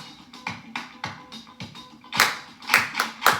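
Hand claps in a sharp rhythmic pattern, starting with moderate evenly spaced claps and growing louder and denser toward the end, as a rhythm for a children's listening exercise.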